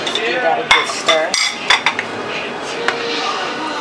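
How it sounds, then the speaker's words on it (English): A spoon clinks and scrapes inside a pot while orange zest is stirred into orange chicken sauce, several quick metallic taps and clatters up close before the stirring settles into a softer background hum. "And just throw it in there. Give that a good stir."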